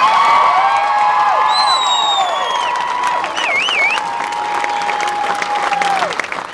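Loud crowd applause with whistles and high cheering whoops rising above the clapping, continuous throughout and fading slightly at the end.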